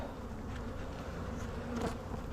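Bees in a hive hum as a steady, dense buzz that carries through the whole stretch, with a slightly louder swell near the end and no talking over it.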